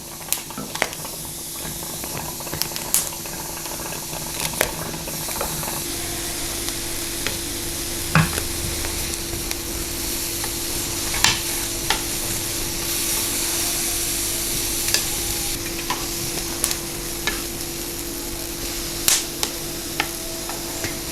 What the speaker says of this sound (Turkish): Biberleri de hiçbir şey yapmadan doğrudan tavaya atıyorum.